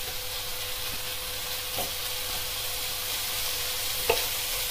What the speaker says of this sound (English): So I'm just mushing this round as it cooks.